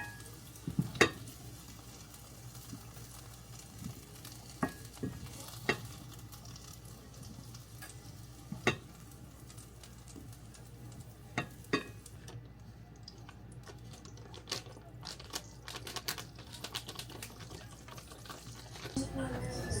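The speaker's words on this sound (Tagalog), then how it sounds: "Ito, magigisa na ako. Lagay ko naman yung aswete." Onions and garlic being sautéed with annatto in a pan in a home kitchen, a soft steady sizzle under scattered sharp clinks and scrapes of a utensil against the pan, fairly quiet and close.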